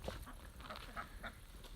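Ducks quacking in their pen outdoors, a few scattered quacks over a low, noisy background, fairly faint and with no talk.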